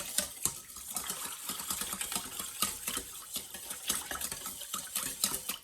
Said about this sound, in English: we're just gonna get us a whisk. Get it all combined, get it all together